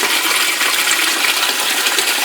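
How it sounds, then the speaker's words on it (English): Water from aquaponics grow beds spills steadily into a sump, a continuous close splashing rush with no break and no voices over it. "All the grow beds overflow into this sump."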